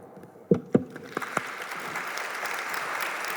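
A few sharp claps break out after an education talk, then swell into steady applause from a crowd that carries on evenly.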